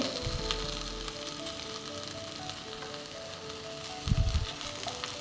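Okra fries in a pan over a low flame, giving a steady, even sizzle with a brief stir or clatter partway through and no talking.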